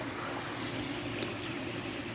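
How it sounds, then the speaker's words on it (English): A waterfall at a swimming pool gives a steady, even rush of splashing water that fills the background, constant and moderately distant with no voices. "Sorry about the background noise. It's the waterfall on the swimming pool over there."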